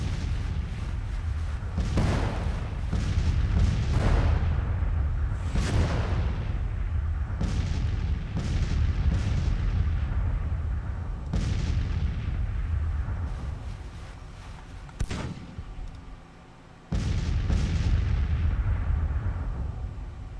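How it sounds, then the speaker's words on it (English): Artillery batteries fire in a Civil War strategy game, a steady succession of deep booms and rumbling blasts, some overlapping, with a short lull near the end before the firing resumes. "Actually nice to have all my batteries firing"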